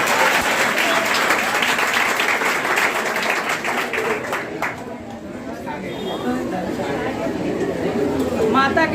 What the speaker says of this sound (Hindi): जो ना बजाए मेरे कलाकारों के लिए ताली